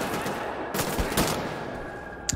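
Gunfire in the Wolfenstein video game, several sharp, separate shots fired in quick succession over a steady background, with no talking.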